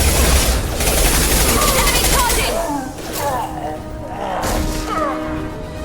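Sustained gunfire in the video game Mass Effect 2, with dense bursts and impacts running throughout, loud and continuous, while talk and chatter can be heard over the battle.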